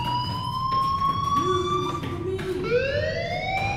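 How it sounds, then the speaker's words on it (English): An alarm sounds steadily through a scene in the Life is Strange video game, a loud sustained electronic tone whose pitch shifts partway, running continuously over a busy game background without any talking. "do you hear that fire alarm?"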